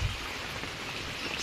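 Rain falls steadily outside a chicken coop, a soft, even hiss of drops with no voices.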